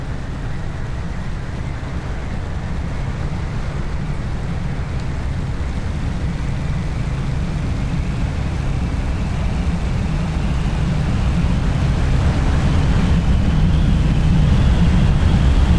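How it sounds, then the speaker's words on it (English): A steady, roaring P-40 fighter plane engine drones throughout in a flight simulator game, swelling slightly louder toward the end as the plane dives at high speed. "The P-40 was famous for its high-speed dives."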